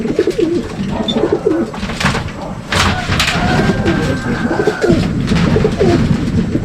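Racing pigeons coo repeatedly at close range in a loft at a club in Paete, Laguna, with soft rhythmic throaty calls layered over one another, accompanied by rustling and a brief scrape, and no talk.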